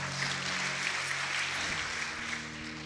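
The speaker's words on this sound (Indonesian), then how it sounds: "Tepuk tangan buat Tuhan Yesus dong" Broad applause from a church congregation during a sermon, steady crowd clapping with a faint low hum beneath and no talk over it.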